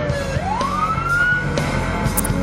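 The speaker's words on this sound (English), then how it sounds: "red lights and sirens mean pull to the right" An emergency vehicle siren rising in a loud upward sweep and holding a high wail close by, with traffic rumble beneath.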